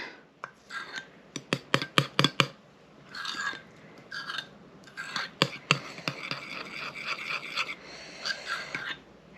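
Whisk or spoon scraping and tapping against a bowl while pure vanilla is mixed into a basic custard, quick rasping strokes in bursts with short pauses, close and alone.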